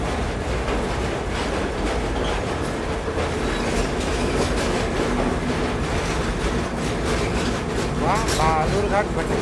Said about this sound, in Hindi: भटिंडा बालूरघाट फरक्का एक्सप्रेस हमको पैरेलली ओवरटेक कर रही है।